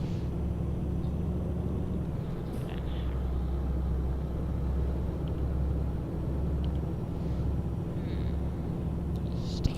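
A simulated truck engine from Euro Truck Simulator 2 drones steadily at cruising speed, a low continuous hum with faint clicks and small interface blips over it.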